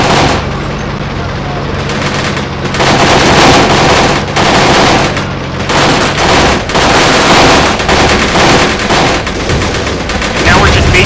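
Cannon and machine-gun fire from an APC in the Graviteam Tactics wargame, loud and sustained with repeated bursts and impacts across the whole stretch, under an occasional voice.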